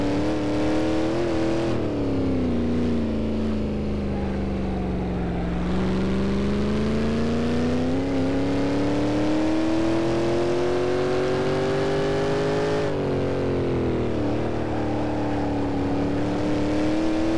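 A Shelby Cobra race car engine in the Assetto Corsa video game at the Nordschleife drones steadily throughout, its pitch sliding down and back up as it shifts and revs, loud and continuous with no voices.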